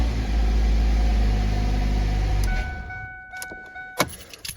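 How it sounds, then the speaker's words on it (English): A car engine runs loudly at a steady idle close by, then cuts off abruptly, leaving a few sharp clicks and knocks in near silence. "I'm gonna give it a quick start just to show you that the check engine light is not even on."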